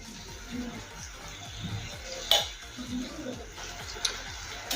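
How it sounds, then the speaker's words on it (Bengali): Powdered milk being stirred into a sticky mix of grated coconut and jaggery in a pan, heard as repeated soft scraping strokes and a couple of sharp metallic clinks from a spoon against the pan, fairly quiet. "গুঁড়ো দুধ ভালোভাবে মিশিয়ে নেব নারকেল কোড়ার সাথে"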